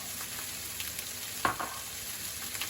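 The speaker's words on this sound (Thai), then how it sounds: "ผัดเพิ่มก่อนครับ" Pork belly with carrot and Brussels sprouts hisses steadily as it is stir-fried in a hot pan, with one sharp utensil scrape near the middle and no talking.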